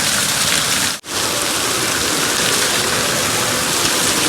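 Heavy rain pours onto a rooftop and outdoor stairs in a loud, dense, continuous roar, broken only by a momentary drop near the start.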